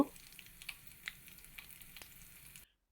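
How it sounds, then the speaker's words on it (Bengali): Bay leaf, cumin seeds and dried red chillies frying in hot oil as a tempering for a chickpea dal, a soft steady sizzle with a few light crackles, fairly faint and close, ending in silence. "তেলের মধ্যে ফোড়নে আমি দিয়ে দিচ্ছি তেজপাতা, জিরে এবং শুকনো লঙ্কা।"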